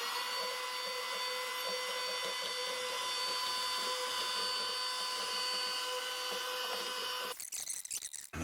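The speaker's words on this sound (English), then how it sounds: "So vacuum cleaner again." A vacuum cleaner runs over the spruce top of an Epiphone J-200EC electro-acoustic guitar with a loud, steady whine. The motor cuts off near the end, leaving brief handling clatter.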